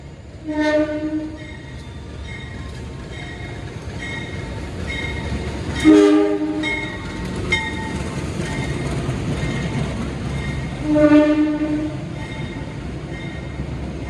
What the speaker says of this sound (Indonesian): ini kereta api yang masuk di jalur 3 merupakan kereta api yang akan saya naiki